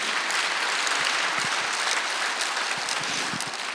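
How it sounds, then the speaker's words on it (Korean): A congregation claps steadily throughout an Easter Sunday worship service at a Korean church, a dense, even burst of applause lasting just under four seconds with no talking over it. "박수 주세요"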